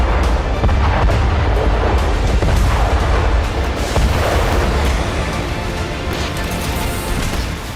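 Russian artillery strikes produce loud, heavy booms that roll into one continuous rumbling roar, dense and unbroken from start to finish.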